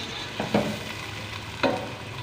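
Onions frying in a pan for keema curry, a soft steady sizzle with two brief stirring scrapes, close and moderately quiet.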